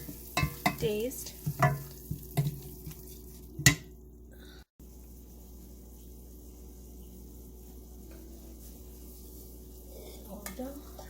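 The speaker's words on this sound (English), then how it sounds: "So here our masalas are also nicely cooked." Cooked masala sizzles and is stirred in a pan while preparing a quick vegetarian rajma lunch, with scraping clinks early on, then a steady soft frying hiss under brief talk.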